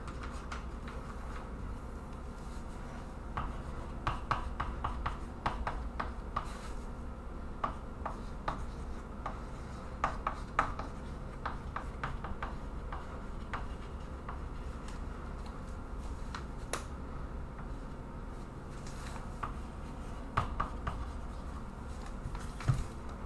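Pen or marker scratching across a surface while writing out a vector geometry explanation, a steady run of small scratchy strokes and taps over a low background hum, close and fairly quiet, with no talking.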